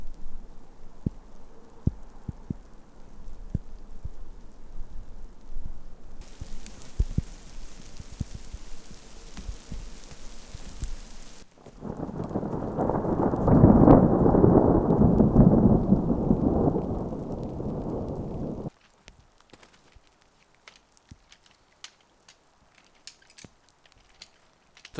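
Thunderstorm with rain over a tarp shelter at a winter camp beside a frozen lake: steady rain patter and a long heavy rumble of thunder swelling then cutting off, followed by quieter scattered drops.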